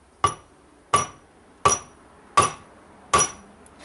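A hammer taps a flange off a Land Rover Freelander 2 Haldex unit: five evenly spaced, sharp metallic knocks, each ringing briefly, close and moderately loud with no talk.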